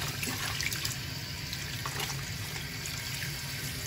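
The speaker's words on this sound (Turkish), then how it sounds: "Şimdi güzelce yıkayalım." Green lentils being rinsed in a kitchen sink, with running tap water and sloshing liquid continuing steadily and close throughout, no speech.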